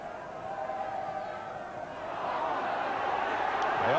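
Football crowd at Loftus Road, a Queens Park Rangers home match with about twenty thousand fans, giving a steady broad roar that swells louder in the second half of the stretch, with commentary talk over it.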